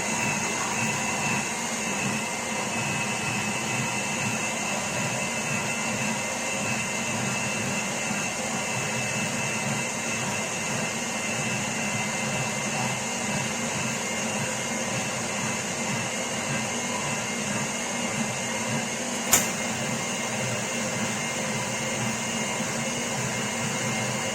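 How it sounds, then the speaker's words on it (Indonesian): A kitchen blender runs with a continuous, steady motorized whir for the whole stretch without pause, with a single sharp click near the end. "blender ya"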